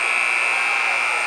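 A loud, steady buzzer tone sounds through a varsity basketball gym at the end of a quarter, holding unbroken for over a second over faint crowd noise.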